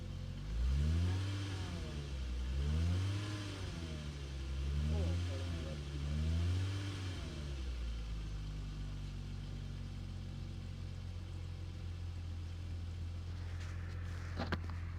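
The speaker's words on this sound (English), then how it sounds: "to show you what comes out of the tailpipe when we start it up. We'll give it a little bit of gas." A 1993 VW Corrado VR6 with its 41,000 km original engine revs in several rising and falling throttle blips, then settles into a steady idle, recorded near the exhaust tailpipe with a brief voice near the end.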